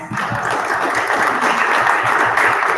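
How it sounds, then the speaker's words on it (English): Audience applause at a 1 Million Cups startup meetup, thanking the week's coffee sponsor: a steady, dense wash of clapping for a few seconds with no voices. "Let's give her a round of applause."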